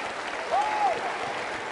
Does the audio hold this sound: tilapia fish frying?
no